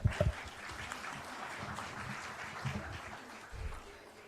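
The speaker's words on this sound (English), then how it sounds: "So let us express our appreciation with a big round of applause." Audience at a radiographers' state conference in Maharashtra giving a round of applause, scattered, fairly faint clapping in a hall with a few louder claps at the start and murmuring underneath.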